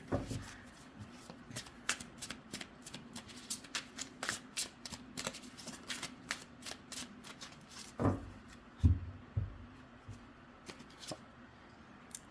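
Tarot cards being shuffled for a pick-a-card reading, a run of crisp riffling and flicking bursts in an uneven rhythm, close and fairly quiet, with a couple of heavier knocks near the end.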